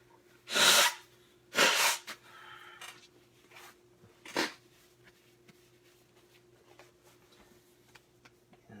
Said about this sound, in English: let me just blow my nose here